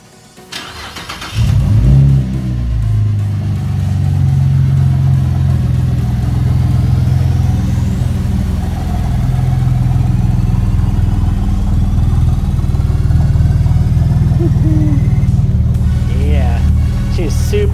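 A rebuilt car engine runs steadily on a test drive out of an Arizona garage, a loud continuous low rumble rising after a brief quiet start and holding through the drive without easing off.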